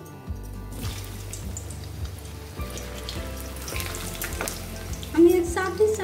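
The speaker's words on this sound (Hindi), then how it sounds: "अब इसमें हम पटल को फ्राई करके निकाल लेंगे।" Parwal (pointed gourd) frying in hot mustard oil gives a steady, close sizzle with a loud, sharp burst of crackling near the end.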